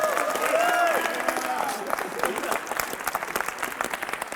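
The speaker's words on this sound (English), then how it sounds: "Round of applause from my man." A high school assembly audience breaks into loud applause and cheering that peaks at the start, then thins into scattered claps as it fades. A voice briefly rises above the crowd.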